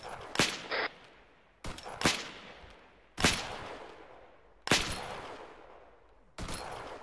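Gunfire in the military video game Arma 3, with five sharp single shots spaced over several seconds, each loud and followed by a long echoing tail, with no talking.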